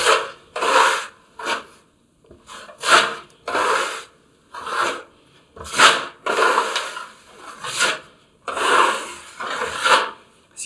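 Filler is spread with a filling knife in repeated scraping passes, each a rasping stroke of about a second with short pauses between, close and clear.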